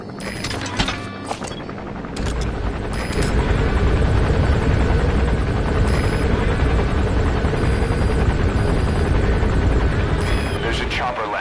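Helicopter landing in the video game Metal Gear Solid 5, a loud steady rotor drone that builds over the first few seconds and holds throughout, with brief game effects and faint voices near the start.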